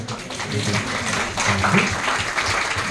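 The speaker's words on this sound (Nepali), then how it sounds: "एकपल्ट जोरदार ताली" A crowd in a small, packed hall claps together in a sustained round of applause, with voices mixed in beneath the clapping.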